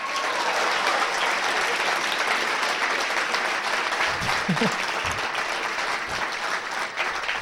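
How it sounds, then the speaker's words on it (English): Audience applause fills a comedy club during a stand-up street-themed show, a steady dense wash of many hands clapping that stays loud and even throughout, with a few faint low voices beneath. "Big round of applause for Darren."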